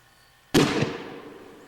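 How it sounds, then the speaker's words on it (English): A firework mortar shell launches with a single loud, sharp thump that decays over about a second into a hissing, crackling tail, standing alone after near silence. "he's gonna get the mortar"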